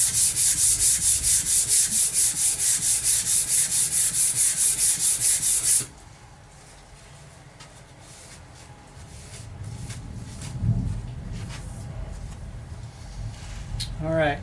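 A blade is rubbed steadily back and forth across abrasive sharpening grit, a loud, even rasping rhythm for several seconds that stops abruptly, leaving quieter handling noises.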